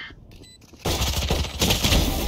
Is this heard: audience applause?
no